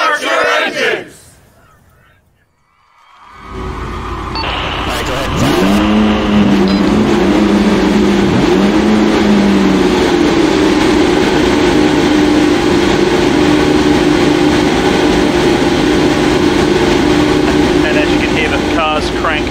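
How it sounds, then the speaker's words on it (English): Race car engines in the INDYCAR iRacing Challenge at Indianapolis Motor Speedway crank up after a brief silence, then a loud, sustained roar of many revving engines with rising and falling pitch sweeps. "Drivers, start your engines!"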